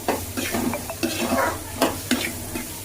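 Peas, carrots, capsicum and onion sizzle loudly in hot oil while a spoon stirs and scrapes the pan, with several sharp clanks over the constant frying hiss.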